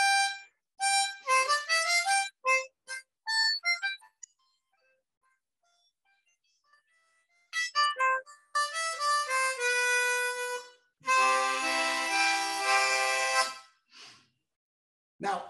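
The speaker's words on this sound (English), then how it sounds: "So I brought a miniature harpsichord and I'm going to play Minuet in G for you." Minuet in G played on a miniature harpsichord, bright plucked tones in quick melodic runs, pausing for several seconds midway before resuming with fuller, sustained chords near the end.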